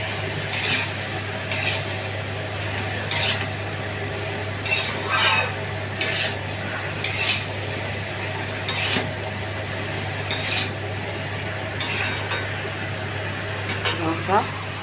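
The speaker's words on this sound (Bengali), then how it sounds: "লাউটা একটু নাড়াচাড়া করবো কতক্ষণ" Bottle gourd pieces are stirred in a cooking pot, with repeated scraping and clinking of a utensil against the metal over a steady low hum, the strokes coming in loose bursts every second or so.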